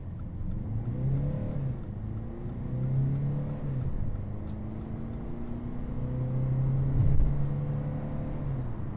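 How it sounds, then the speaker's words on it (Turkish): A Mercedes A180 with a Renault 1.5 dCi 109 hp diesel accelerates flat out from 0 to 100 km/h, a moderate engine drone rising and dropping through gear changes, heard from inside the car without speech. "Mercedes A180 dizel 0-100. 3, 2, 1. Ayağım dipte."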